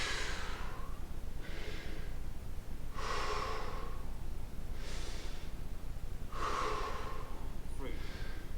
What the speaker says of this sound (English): Control that breathing, guys.